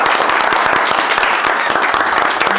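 A crowd at a gathering in Iran applauds, dense and close, with many hands clapping in a steady, rapid patter.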